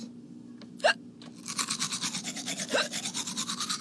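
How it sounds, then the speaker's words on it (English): Teeth are brushed with a toothbrush in quick, regular back-and-forth scrubbing strokes, close and fairly quiet, with a couple of brief sharp sounds just before the brushing starts. "Brushed his teeth."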